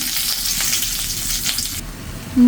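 Panch phoron and cumin seeds fry in hot oil with a dense, bright sizzle that cuts off abruptly near the end, followed by a brief clatter.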